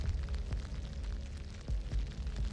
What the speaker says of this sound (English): The T-72's ammunition ignited, causing a massive explosion.